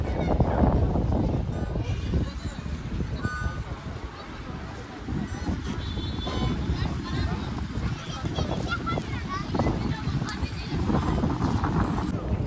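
Strong gusty wind buffets the microphone continuously on a bridge in Amasya, a steady low roar that swells and dips, with a person talking over it and faint street sounds in the background.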